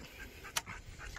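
An overweight dog at a cricket fetch-training session pants quietly in quick, soft breaths, broken once by a brief sharp click, all very close and faint.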